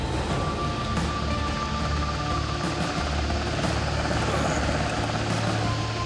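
A constant low rotor rumble and whine of a rescue helicopter fills the background, steady and fairly loud throughout without speech.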